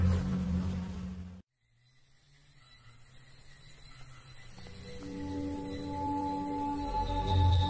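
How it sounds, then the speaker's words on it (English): Insects swarming over the remains of an animal carcass on the northern plains of Cambodia, a steady droning buzz that rises gradually after an abrupt cut, with no voices. "Insects swarm on the remnants."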